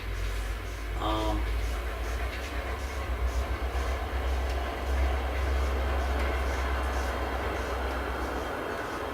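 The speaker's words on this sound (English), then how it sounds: "Train going by." A train rumbles past with a deep, steady low drone and rolling clatter, while a voice briefly calls out near the start.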